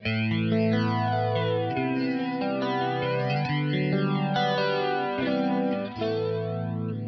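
A guitar runs through an Electric Mistress flanger pedal in mono with all knobs at middle settings, sustained chords sweeping with a slow jet-like whoosh, loud and alone.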